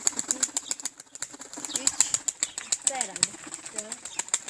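Tumbler pigeons take off and circle, their wings clapping in quick rhythmic bursts of flapping near at hand, mixed with soft cooing and people talking nearby.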